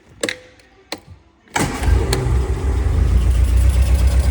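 A 1971 Lotus Seven Series 4 with a crossflow engine and twin Weber carburettors turns over with a few clicks, then fires and settles into a loud, close, steady rumbling idle.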